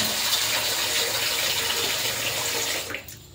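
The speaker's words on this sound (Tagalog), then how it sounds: "Lagyan natin ng tubig." Tap water runs steadily into a pressure cooker before cooking dinakdakan, a continuous close splashing stream that cuts off near the end.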